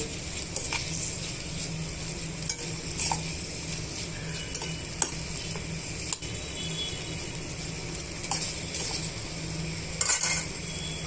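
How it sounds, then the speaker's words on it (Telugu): Vegetables frying in a pan while being stirred, a steady low sizzle under scattered clinks and scrapes of a utensil against metal, close and moderately quiet throughout. "ఇవన్నీ బాగా వేయించేసుకుందామండి"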